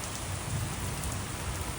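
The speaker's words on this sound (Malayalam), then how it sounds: "എന്ത് മഴ ഇത്" Heavy rain falls in a dense, steady hiss, close and unbroken for the whole stretch, with no voices over it.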